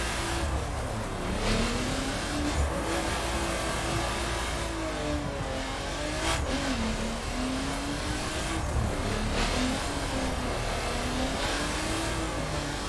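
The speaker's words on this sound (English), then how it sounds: "I'd like to spend it going up and down this mountain outside Palm Springs in a Nissan, very sideways" A heavily modded Nissan in The Crew revs hard while drifting sideways up a mountain road outside Palm Springs, its engine note steady and loud throughout, rising and falling with the throttle.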